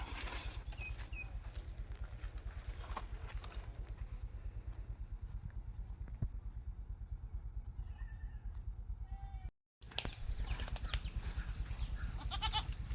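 Goats bleat now and then over a steady low engine-like drone on a farm where casuarina trees are grown, with a brief dropout near the end; the calls are faint and intermittent.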